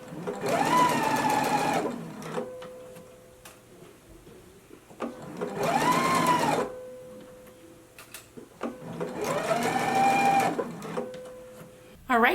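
A sewing machine stitches the center back seam of a skirt in three steady, close bursts of a few seconds each, separated by short quiet pauses.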